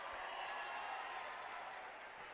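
Crowd at a White County vs. Lenoir City substate game cheering and applauding before a putt, a steady broadband roar of voices and clapping, loud and sustained throughout.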